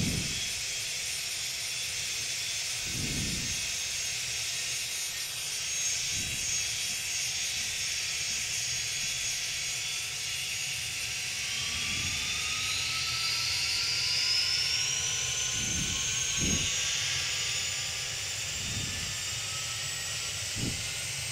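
Twin jet engines of a Cessna Citation C550 in the Prepar3D flight simulator run steadily with a broad roaring hiss and rising whine, while faint intermittent clicks and thumps sit beneath, with no talking.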